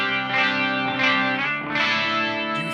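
Electric guitar played through a Kingtone Duellist drive pedal set bright and trebly, loud and sustained with rich harmonic distortion, chords ringing over roughly three seconds with no talking.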